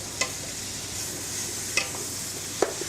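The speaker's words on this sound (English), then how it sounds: "We just let it sear for a little bit" Rapini and sausage sear in a pot on a stovetop with a constant soft sizzle, broken by a few brief clinks of a utensil against the pot.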